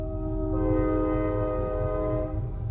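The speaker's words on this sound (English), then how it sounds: "There's a train for you." A passing train sounds a long, steady, sustained horn tone over a continuous low rumble, loud and unbroken throughout.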